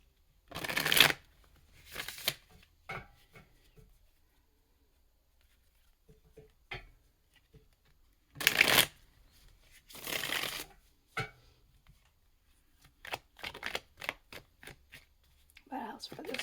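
Tarot cards being shuffled in sharp riffling bursts, several separate close-up shuffles spaced out with quiet pauses between them, with a voice speaking softly at times.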